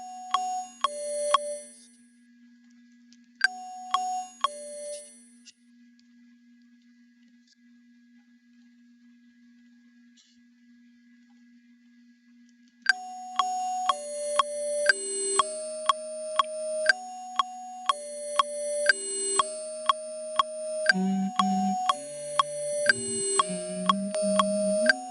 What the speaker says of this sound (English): These bells to me sound so cheap. They sound so terrible.